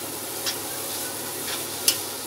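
Carrot halwa being stirred and mixed in a pan, a steady soft scraping and gentle sizzle with a few brief clinks of the spoon, no talking.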